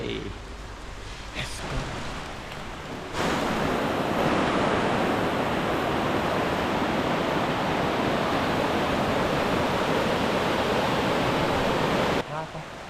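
Steady, loud rushing water from Khlong Phlu waterfall on Koh Chang in the rainy season roars continuously and close by, the broadband wash cutting in abruptly after a few quieter seconds and stopping near the end.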